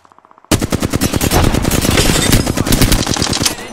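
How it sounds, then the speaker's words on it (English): Rapid automatic gunfire from a firefight in the video game Apex Legends starts abruptly after a brief quiet moment, then keeps up as loud, dense, sustained bursts of shots until it eases off at the end. "I am taking fire."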